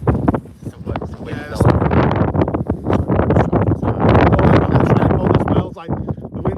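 Wind buffets a microphone outdoors at Liverpool John Lennon Airport on a cold day, a loud, continuous low rumble and flutter that swells and dips with the gusts, with people talking over it.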